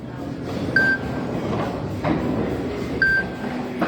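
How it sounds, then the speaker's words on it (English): During a live cornhole playoff broadcast, a phone's ringtone chimes twice in a short repeating pattern over quiet room noise and faint background murmur. "someone's trying to call on the phone"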